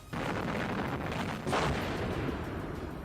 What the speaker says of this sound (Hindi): जिसमें चीन की मिसाइलों से होने वाला धमाका चारों तरफ गूंज उठा।